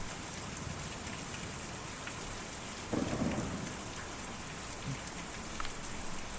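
Steady rain in the video game Kentucky Route Zero hisses in the background, with a low rumble of thunder rising briefly partway through, fairly quiet overall and no voices.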